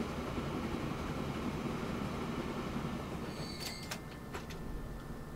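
Small train running in the railroad simulation game Transport Fever 2, a steady low rumbling rail roll with a few high metallic squeals and clanks toward the end, fairly quiet and without talk.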